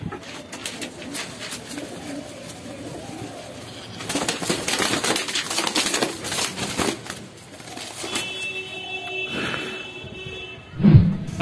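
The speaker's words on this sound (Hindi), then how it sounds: "ये लकवा कबूतर जो था ये पूरा ठीक हो गया।" A pigeon recovered from paralysis cooing, with low throaty coos and soft movement sounds against a busy background, a louder burst in the middle and a brief close flutter near the end.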